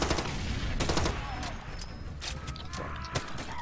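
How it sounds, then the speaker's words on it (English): Rapid bursts of gunfire in the shooter video game Far Cry 2, sharp repeated shots fired in quick succession over a continuous background of game ambience. "I can shoot through bush and know if I hit him or not"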